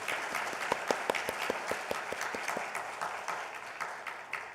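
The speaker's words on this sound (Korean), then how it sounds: "우리 서로에게 또 하나님께 영광의 박수로" A church congregation gives a round of applause during a Sunday worship service, many hands clapping steadily at moderate distance with sharp individual claps standing out early, fading slightly toward the end.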